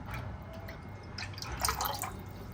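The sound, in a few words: rice-washing water being poured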